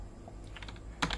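Quick keystrokes on a computer keyboard entering a pacman query command on Arch Linux: a short run of light clicks, then a sharper, louder burst of keys near the end, close and with no talk.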